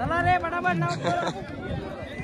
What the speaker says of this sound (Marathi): लकी ड्रॉ कुपन साठी गर्दी बघा.